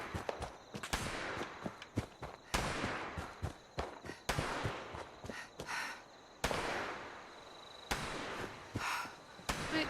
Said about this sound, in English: It's shooting at me.